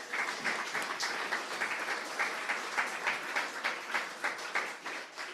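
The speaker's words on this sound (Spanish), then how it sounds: "Dale un aplauso al Señor, hermano." A church congregation claps together in a steady rhythm during a sermon on fasting, the beats evenly spaced and moderately loud, with no voices over the hands.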